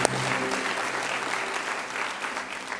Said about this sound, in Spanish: Les damos unas fuertes palmas en el nombre del Señor.